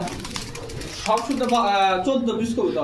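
Pigeons cooing nearby at a pigeon market in Bangladesh, in soft, throaty bursts, with people's voices talking over them in the background.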